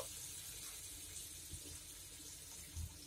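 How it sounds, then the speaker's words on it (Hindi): Water poured into a pan of fried chickpeas while cooking chole masala, a quiet steady splashing pour with a slight gush near the end, no talk. "अब इसमें हम पानी डालेंगे। पहले मैं 1 कप डाल रही हूँ"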